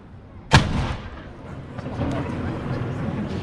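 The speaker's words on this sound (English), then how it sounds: "The gun is still fired every day at 1 p.m. except on Sundays, Good Friday and Christmas Day." The 105mm field gun of Edinburgh Castle's One O'Clock Gun fires a single loud, sharp boom followed by a rolling echo, with crowd chatter and outdoor murmur continuing beneath.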